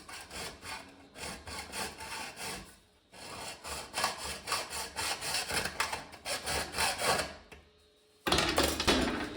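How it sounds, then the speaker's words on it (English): Saw blade cutting a small starter hole during construction of a welding fume extraction system, a loud rhythmic rasping in repeated strokes with brief pauses, close by, no talking. "Cutting a little hole here so I can get the blade in."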